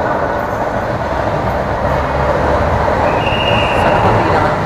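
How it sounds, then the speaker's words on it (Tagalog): An LRT train roars into a station in Metro Manila, a loud, steady rumble of wheels and motors heard close up, with a faint high squeal rising near the end. "And Here's the train. he is approaching already."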